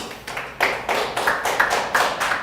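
A church congregation at a Sunday worship service claps in a brief round, about eight distinct bursts spaced at a fairly even rhythm, close and moderately loud, with no talk.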